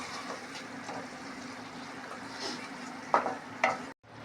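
Cooked spinach is tipped into a hot frying pan of simmering palak sabji gravy with oil and stirred, giving a steady low sizzle with two sharper scraping clinks of the spoon near the end, close and fairly quiet.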